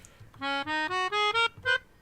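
A voice imitates a piano playing a pentatonic scale with the mouth, six sustained tones stepping upward one after another, then a short pause and a final note, close and clear.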